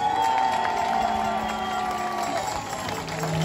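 A large crowd of thousands at a rally in Montpellier applauds and cheers in a continuous, loud roar of clapping mixed with raised voices and whoops.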